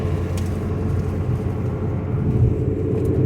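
A Ford Mustang GT 5.0 rolls over a freshly repaved stretch of once-bumpy road, giving a steady, loud low rumble of engine and tyre noise from inside the cabin with no break.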